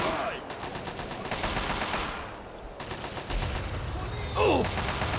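Repeated automatic gunshots in Fallout 3 form a steady rattling stream with short pauses. A voice is heard briefly alongside the shooting.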